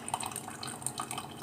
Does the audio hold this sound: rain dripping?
yes